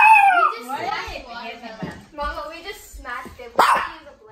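Several short, sharp barks from a dog at close range, spaced irregularly between bursts of casual indoor talk, with a final loud bark near the end.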